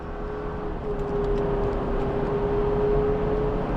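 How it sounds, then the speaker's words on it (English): Steady engine drone of a 2024 Chevy Traverse Z71 with turbo while driving, a continuous close hum with a faint whine holding throughout, no voices. "The turbo noise is amazing."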